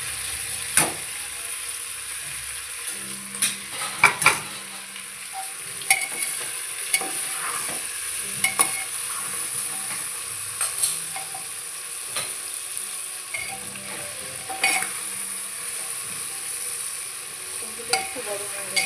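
Mutton pieces sizzle steadily in a hot pan for mutton curry, with a spoon scraping and stirring in irregular clinks and strokes throughout, close and continuous.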